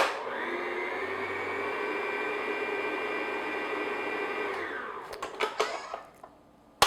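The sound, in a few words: electric mixer mixing dry cupcake ingredients on low speed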